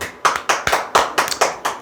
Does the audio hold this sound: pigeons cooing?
no